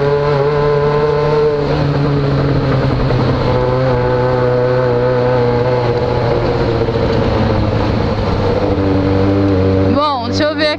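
Yamaha XJ6 motorcycle riding, a steady droning engine note held near constant at cruising speed, loud and close, with a brief burst of higher revving near the end.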